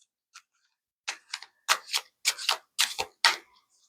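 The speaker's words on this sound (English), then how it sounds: "We're going to shuffle again." Tarot cards in a Golden Universal Tarot deck being shuffled, close and fairly quiet, giving a few brief riffling flicks that grow into quick paired bursts of card slaps, with no talking.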